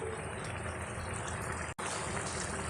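A pot of egg curry bubbles steadily at a low simmer, a soft continuous boiling hiss with a brief dropout partway through.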